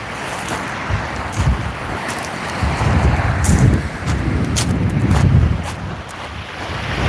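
Steady wind buffets the microphone on open sea from a fishing kayak, a loud rushing roar that swells and eases, with water sloshing underneath.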